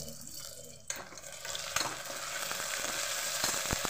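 Ginger-garlic paste hits browned onions in a pan for chicken khichuri. A sharp burst of sizzling starts about a second in, then steady frying with stirring scrapes follows.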